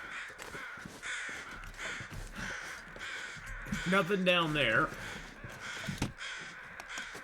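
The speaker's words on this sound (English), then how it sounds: "Okay, I hear you, crows." Several crows caw harshly and repeatedly in the wintry survival game The Long Dark, a rapid burst of calls that rises in the middle, while a person speaks briefly at a low level.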